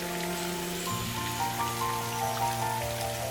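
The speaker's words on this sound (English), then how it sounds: "Raindrops." Steady raindrops falling as a storybook sound effect, a dense continuous patter with layered musical tones underneath, no voices.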